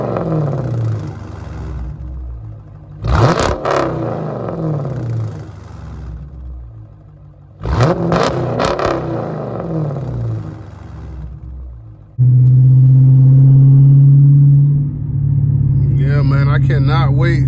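A catless car engine revving in traffic, deep rumbling bursts that swell and fall twice before settling into a loud sustained drone, with a brief voice near the end.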